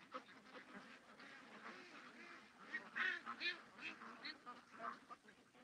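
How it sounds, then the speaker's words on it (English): Ducks leave a pond outdoors, giving a series of faint, irregular quacks and honks spread across several seconds over soft background noise. "Oh, ducks are getting out."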